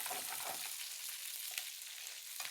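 Green chillies frying in a pan for pachai milagai mandi, a bright continuous sizzle with a few scraping stir sounds and crackles, close and with no talking.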